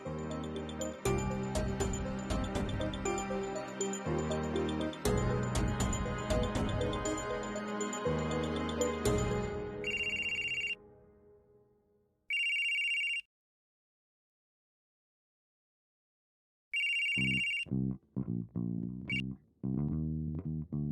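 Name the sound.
phone ringing on outgoing call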